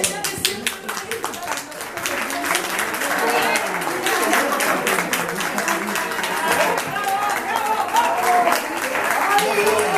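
An audience breaks into loud, sustained applause after an a cappella fado medley, starting as scattered claps and swelling into dense, continuous clapping with some voices mixed in.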